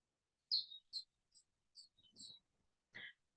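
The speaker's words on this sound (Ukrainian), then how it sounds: "Полетіла наша синичка в гості до Наталки, залетіла в будинок, сіла на ліжко і подарувала нашій Наталці свій гарний спів." A great tit sings a series of short, bright chirps and whistled notes, spaced irregularly and fairly close, in a quiet setting.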